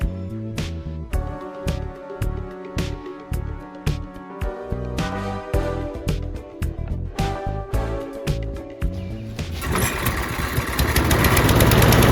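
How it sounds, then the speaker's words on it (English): A small engine sputters and pulses unevenly at first, then catches and roars steadily and loudly, like a lawn mower running up close. "Now with the running lawnmower"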